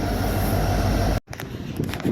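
A train passes on railroad tracks in Green Bay on a sunny day, giving a close, steady rolling rumble. The sound breaks off abruptly partway through, then continues more thinly.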